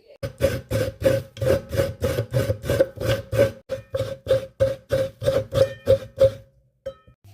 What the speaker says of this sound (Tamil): ஒரு பிளேட்டை இதுக்குள்ளே வச்சுட்டு போங்க திருவி காட்டுறேன்